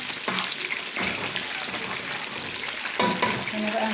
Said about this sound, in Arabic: سيبها تستوي كده تتسبك شويه مع نفسها ونقلي الفلفل